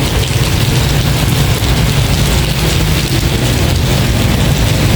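Heavy rain from a sudden summer shower pours down in a dense, constant hiss, loud and close, with no voices over it.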